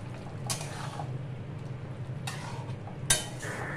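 A spoon stirs kasuri methi into paneer curry in a pan, giving a few brief scrapes and clinks against the metal over a low steady kitchen hum, with a sharper clink near the end.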